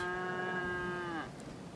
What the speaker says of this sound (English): The cows showed up at the time that the feeder went off.